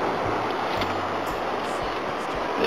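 Ocean surf washing steadily onto the beach at Broome, a continuous broadband roar with wind buffeting the microphone throughout, no voices.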